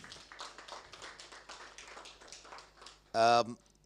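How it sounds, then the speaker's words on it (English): Scattered applause from a small audience at a government export council launch, irregular claps for a few seconds, then a short loud burst near the end. "Another round of applause, please."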